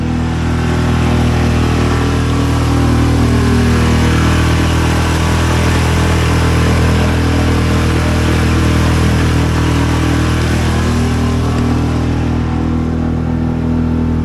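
A boat engine at three-quarter throttle drones steadily and loudly with a low rumbling hum, pushing about 4.5 knots on Delaware Bay, running at constant throttle throughout without pauses or voices.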